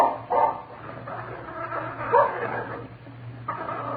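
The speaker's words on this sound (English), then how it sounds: "That dog is growling at Phil Furs." A dog barking and yipping in a radio drama, a few short barks and whimpers over a low hum, fairly close.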